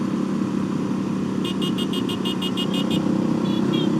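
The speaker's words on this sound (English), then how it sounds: "He honked his horn." A moped horn honks in a rapid series of about ten short beeps, then two more, over the steady loud drone of passing road traffic and engines.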